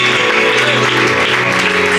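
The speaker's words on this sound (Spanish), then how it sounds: "Vamos a aplaudirle a Él" A church congregation applauds during a sermon, a dense, steady wash of clapping from many hands filling the room.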